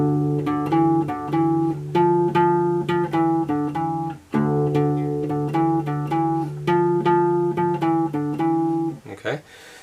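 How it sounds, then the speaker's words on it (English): Guitar picks the C section of a melody, a steady stream of sharply attacked, sustained notes over a low droning tone, close and loud, with a short pause midway and a scratchy stop at the end. "So the melody C section sounds like this."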